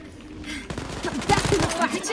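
Gunfire in Wolfenstein: Youngblood, a rapid burst of automatic shots crackling over voices and game effects, growing denser toward the end.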